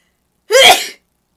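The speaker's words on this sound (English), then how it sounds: "I have to sneeze." One sharp, loud sneeze bursts out after a brief silence, then stops abruptly.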